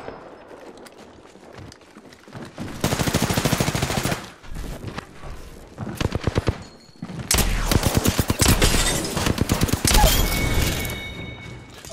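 Gunfire in the video game Apex Legends: rapid bursts of automatic shots in two long volleys, separated by shorter single shots and gaps, loud and close.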